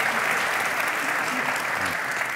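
Audience applause in a lecture hall during a panel event, steady dense clapping filling the whole moment without pause.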